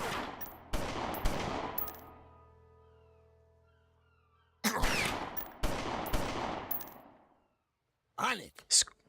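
Gunshots in the old strategy game Omerta: a few sharp, loud reports with ringing tails, then a short gap and another burst of shots and clicks, no talking over them.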